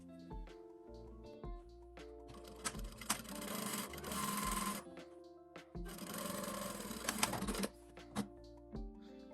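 A sewing machine stitches a 1 cm seam along a pocket on women's shorts, running in two sustained bursts of dense mechanical whirring separated by short pauses and light handling clicks.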